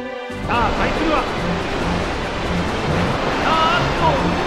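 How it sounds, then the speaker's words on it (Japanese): Sea-trapping attack effect from Pokémon Stadium Gold and Silver: a steady, loud surf-like wash of rushing water and wind that fills the whole stretch, with faint game tones and announcer-style speech running underneath. "あっと海の中に閉じ込められた"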